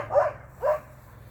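Two mid-distance barks come from a neighbor's dog outside by a garden patch of black raspberry plants, spaced about half a second apart with quiet between.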